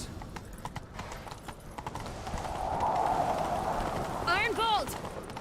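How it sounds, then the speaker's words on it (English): In The Witcher 3 video game, a horse's hooves clip-clop quickly and steadily as it gallops, with a short whinny near the end and voices speaking over the hoofbeats. "Grab a horse, we'll chase him down."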